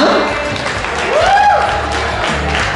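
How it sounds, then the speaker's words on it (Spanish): Audience applause and crowd noise at a Mr. Vaquero Internacional pageant, moderately loud and continuous beneath amplified talk. "fuertes los aplausos para ellos"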